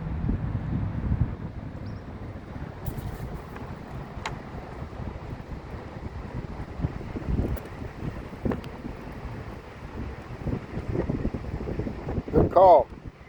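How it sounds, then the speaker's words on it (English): Wind gusts blowing across an outdoor microphone, a steady low rumble that swells near the end, with a person talking faintly beneath it. "the wind about to pick up"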